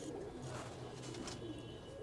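Pigeons coo softly in a rooftop loft, a low, continuous murmur of several birds close by with no voices over it.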